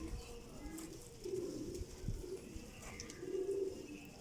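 A Ram Puri pigeon coos in soft, repeated low phrases close by, three or so rounded coo bursts over a faint room background with no talking.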